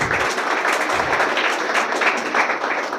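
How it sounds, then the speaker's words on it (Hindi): Steady crowd applause, dense and continuous, with scattered claps blending into a broad wash of noise. "तालियां बजना चाहिए।"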